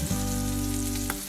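A blue cheese onion burger sizzles steadily in a pan, a close, continuous frying crackle with a faint clink near the end.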